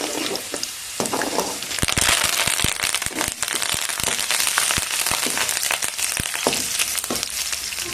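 Dried red chillies and curry leaves crackle and sizzle in hot oil with golden garlic for tamarind rice, giving a loud, continuous frying hiss close by, punctuated by frequent sharp pops and spits.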